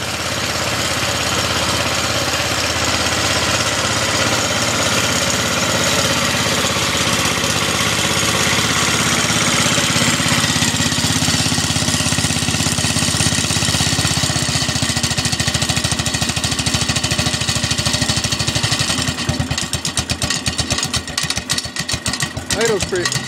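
A Bolens 1050 garden tractor engine idles after a cold start with a loud, steady, rough chugging, and the tone turns choppier and uneven near the end.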